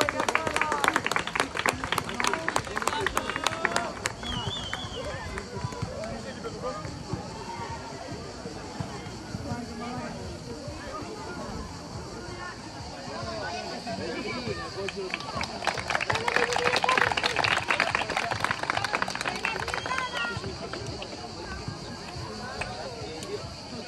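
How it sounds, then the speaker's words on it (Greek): A crowd at a Greek football match claps together in quick rhythmic bursts, with a louder, denser round of applause partway through, amid general crowd noise and chatter. "Παλαμάκια. Δώστε."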